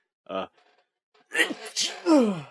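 A single sharp sneeze bursts out, followed moments later by people exclaiming and talking.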